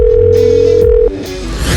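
A steady electronic telephone tone plays loud and close over a speakerphone for about a second, then cuts off and leaves a muffled, clattering background.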